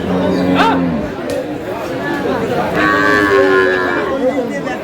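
Cattle at a busy rural livestock market in Bangladesh, where cows with calves are sold, moo loudly and close by in a couple of long calls, with crowd chatter and bargaining voices running underneath.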